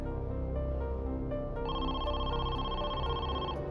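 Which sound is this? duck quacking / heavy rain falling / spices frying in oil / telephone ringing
telephone ringing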